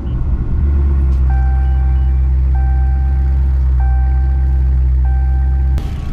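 A Dodge Charger ScatPack starting up: a brief starter catch, then a loud, steady deep idle rumble close by, with a repeating two-tone warning chime sounding four times over the engine before it cuts off.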